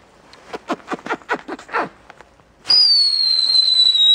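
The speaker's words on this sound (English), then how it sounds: "So we have some fireworks because it's legal to do now in Denmark" Fireworks set off at night in Denmark: a rapid run of about eight sharp crackling bangs, followed by a loud, steady high whistling tone that holds for over a second.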